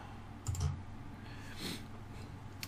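Mouse clicks while editing a restaurant schedule in Excel, a couple of faint, quick clicks over low room hum in a quiet setting.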